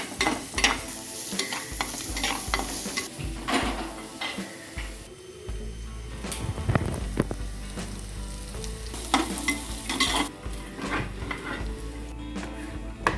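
Shallots sizzle quietly in a frying pan while a utensil stirs them, with repeated scraping and clinks against the pan throughout and no voices.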